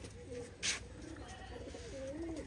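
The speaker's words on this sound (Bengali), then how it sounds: "একটা দুবাস কবুতর বসে আছে।" A Dubash pigeon perched at a pigeon farm coos softly in a few low, rolling phrases, faint and fairly close against a steady background hiss, without talking.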